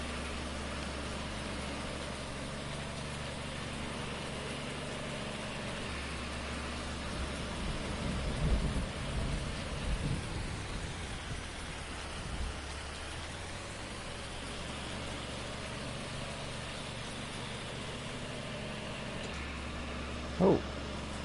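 Continuous broadband hiss of rain in Farming Simulator 19, steady and even throughout, with a faint low rumble beneath and a brief click near the end.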